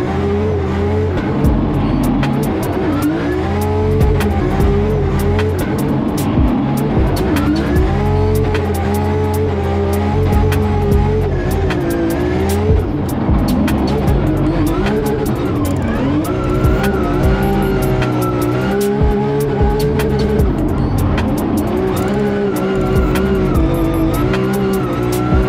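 A Nissan S14 drift car revs hard while its tires squeal in long, wavering screeches over a loud, continuous engine roar that stays close the whole time with no talk.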